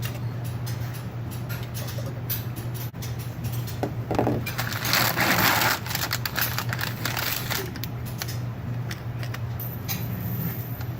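Dense crunching and crackling of glass ampules being crushed, close up and fairly loud, with a steady low hum underneath throughout.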